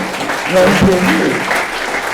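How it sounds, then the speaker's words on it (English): A conference audience at The Gathering 2016 breaks into brief applause for the next speaker, a short burst of clapping that swells and fades within about two seconds while a voice talks over it. "give me a big round of applause for our next warrior"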